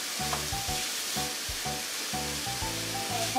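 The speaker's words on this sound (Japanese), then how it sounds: "ほんと野菜がしんなりするまでしっかり炒めてください。" Vegetables stir-fried in a pan for a Japanese dry curry, sizzling steadily and close, with rhythmic scraping strokes of the spatula repeating every half second or so, no voices.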